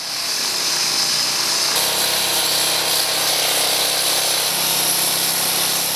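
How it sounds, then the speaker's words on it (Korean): An asphalt cutter slices through a road surface during emergency water-main leak repair in Seoul, a loud continuous grinding whine that deepens as the blade bites in, steady and close with no talking. "아스팔트 절단기를 이용해 공사를 진행할 부분만 정확히 절단을 해야 한다"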